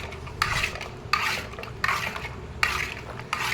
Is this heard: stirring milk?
yes